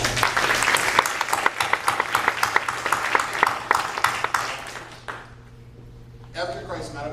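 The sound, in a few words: audience round of applause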